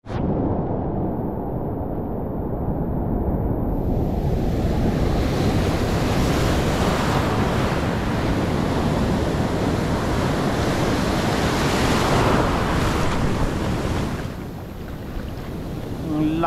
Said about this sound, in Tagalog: Ang laki nun, laking alon,